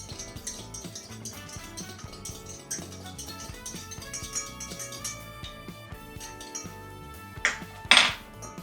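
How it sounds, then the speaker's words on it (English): Ice cubes clatter into a glass of freshly made iced tea that already holds one partly melted cube, with a busy run of clinks and knocks and a sharp louder burst of rattling near the end. "we are going to pile in the ice."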